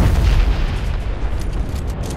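A volcano erupting in Fortnite gives a sustained, heavy low rumble with a boom at the start that holds steady across the moment, with no talk over it.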